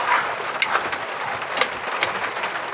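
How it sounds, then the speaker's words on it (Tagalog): Steady rain patters down in Bicol, Philippines, a dense even hiss with occasional sharper drops, with no voices. "Ulan dito sa amin sa Bicol."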